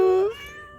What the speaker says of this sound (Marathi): वाव, मांजर.